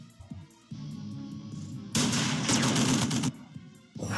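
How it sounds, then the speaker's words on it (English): Gunfire from combat units in the strategy video game Tempest Citadel, a loud sustained burst of shots and blasts over a droning background, heavy for about a second and a half before easing off. "Just as soon as they get close to somebody, they're just going to shoot them."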